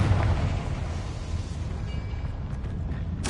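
The Confringo fire spell in the PS5 game Hogwarts Legacy explodes as a loud, sustained roaring blast that rumbles on, then ends with a fresh burst.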